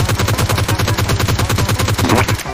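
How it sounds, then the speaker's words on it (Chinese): Rapid automatic gunfire in the battle-royale game Peacekeeper Elite, a loud, continuous burst of evenly spaced shots from a machine gun. "队友那边有枪声，赶紧过去支援一下"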